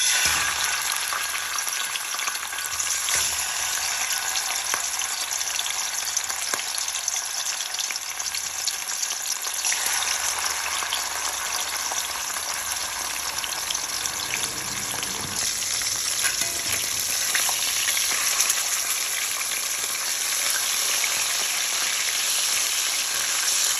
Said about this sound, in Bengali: কই মাছগুলো প্রথমে হালকা করে ভেজে নিব